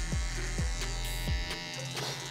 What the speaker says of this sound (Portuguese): Então a máquina de acabamento auxilia muito a você fazer uma curva mais perfeita.